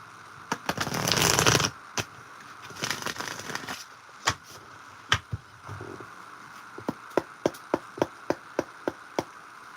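A deck of cards riffled in two quick bursts, followed by a series of crisp, evenly spaced taps and snaps as the cards are squared and handled.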